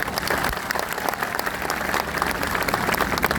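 Crowd applause at a farmers' mahapanchayat in Badaudamev, a dense, continuous roar of many clapping hands, loud and sustained across the whole stretch.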